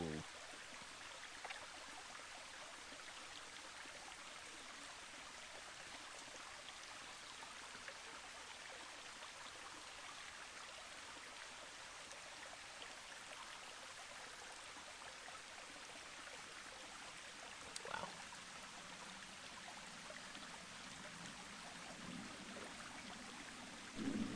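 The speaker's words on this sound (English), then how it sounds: "As I'm at the top of the waterfall" A steady, soft rush of a jungle waterfall in Thailand fills the whole stretch, even and continuous, with an occasional faint knock near the end.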